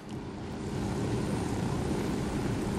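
Steady broadband rotor and engine roar of a helicopter in the video game Ghost Recon Wildlands, holding constant and close throughout with no talk over it.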